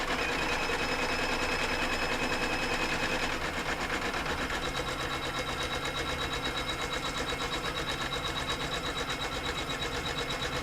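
A machine embroidery sewing machine stitches out a colourway with wash away thread, running a continuous loud rapid mechanical chatter for about ten seconds with a slight shift in tone partway through.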